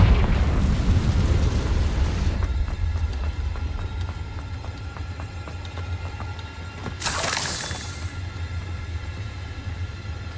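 A blasting spell from Hogwarts Legacy goes off with a loud, deep rumbling explosion up front that fades into a lingering roar, followed later by a brief bright whoosh over steady battle ambience.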